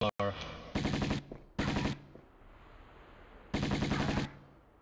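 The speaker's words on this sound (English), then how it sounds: "Shoot him, Lara." Bursts of automatic gunfire from the Tomb Raider Remastered video game, Unfinished Business level, ring out in three loud rapid volleys separated by quieter gaps, with an opening sharp shot.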